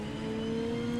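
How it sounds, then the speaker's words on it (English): A racing car engine in the sim racing game rFactor 2 holds a steady, droning hum at constant revs for a moment, heard alone without talk. "I love the sounds of the car"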